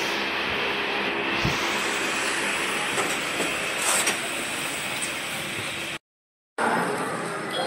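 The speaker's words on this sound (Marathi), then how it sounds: "ट्रेन आलेली आहे मित्रांनो." Train arriving at a station on the Konkan route, a continuous rumbling roll with creaks and metallic clatter, fairly loud and close, cut by a brief silent gap near the end.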